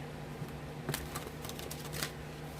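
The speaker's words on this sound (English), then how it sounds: "So, let's shuffle the cards." A large tarot deck is shuffled by hand, giving crisp papery riffling and slapping bursts that come close and clear over a low steady hum, with no talking.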